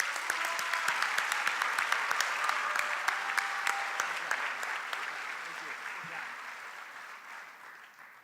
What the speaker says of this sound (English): Let's give a round of applause to our AP Scholars.